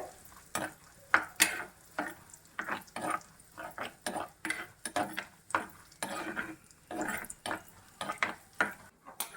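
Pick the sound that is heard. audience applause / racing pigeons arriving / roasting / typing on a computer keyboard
roasting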